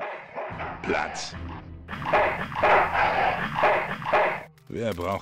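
A dog barks in the adventure game Full Throttle Remastered, a run of rough barks layered over game music and effects, fairly loud and close, with a speaker talking around it.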